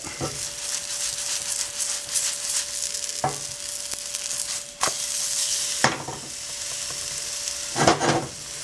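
A veggie omelet sizzles steadily in grapeseed oil in a pan, with a constant hiss and a few sharp clinks and scrapes of a utensil against the pan.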